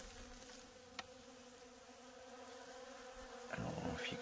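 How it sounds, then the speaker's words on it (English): Bees buzz steadily around an open feeder outdoors, a continuous close insect drone with a couple of brief clicks and a louder swell of buzzing near the end. "But there's a lot more bees here."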